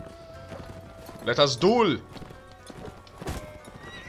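Cavalry horses in the video game Mount & Blade: Warband clatter with galloping hooves and give a loud, rising neigh midway. A voice speaks over the clatter.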